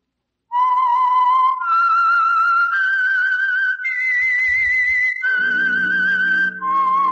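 A lone melodic whistle, clear and close, rising and falling across several sustained notes, with a low tonal backing joining near the end, as the theme of the old radio program The Whistler.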